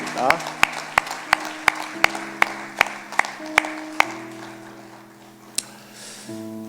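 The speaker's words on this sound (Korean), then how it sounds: "우리 하나님께 영광의 박수로 화답하시겠습니다" Congregation in a church service clapping together in a steady, evenly spaced rhythm of about a dozen sharp claps, then trailing off into a few scattered claps over soft sustained organ or keyboard chords.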